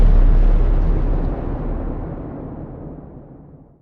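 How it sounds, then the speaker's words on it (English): A huge, deep explosion of an atomic bomb dropped on Japan booms at once and rolls on as a long, decaying rumble. "And they haven't used the bomb yet and are curious to see if it works. So they drop it on Japan."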